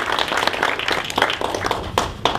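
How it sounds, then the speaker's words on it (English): Audience applause greeting a guest speaker at a university talk, a steady wash of many hands clapping with a few sharper bursts near the end, moderately loud and close. "a big round of applause as we introduce our guest speaker, Dr. Mia."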